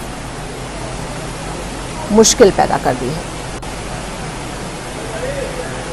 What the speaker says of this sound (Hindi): तो तेज बहाव पानी का मलबा बहता हुआ